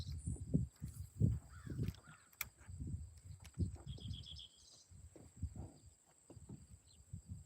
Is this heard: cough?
no